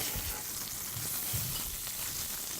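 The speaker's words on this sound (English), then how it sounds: "what I'm doing is I'm searing the salmon" Salmon fillet searing in a hot pan, a steady close hiss of frying fat with low bubbling pops throughout, no voices.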